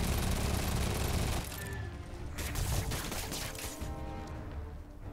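Minigun fire in Spider-Man on PS4 during a brawl at the harbour, a loud dense rattling stream that fades into rumbling impacts and clatter.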